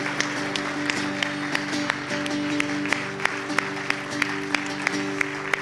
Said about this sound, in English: why don't we give a hand clap for the students and for Jesus